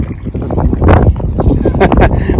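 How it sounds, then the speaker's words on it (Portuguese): Strong wind buffets the microphone outdoors while fishing, gusting in loud low rumbling bursts that fluctuate throughout, with no talk over it. "Vocês veem como é que tá o vento aqui."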